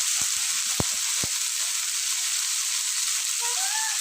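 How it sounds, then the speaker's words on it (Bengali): Cauliflower and potato pieces sizzle in a frying pan, with a steady hiss throughout and a few knocks from the pan near the start. No one speaks. "এখন দিয়ে দিচ্ছি কেটে রেখেছিলাম ফুলকপি আর আলু"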